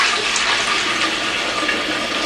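Liquid pours through a funnel into a 1 gallon jar, a steady, close rushing and gurgling flow of water that continues without a break.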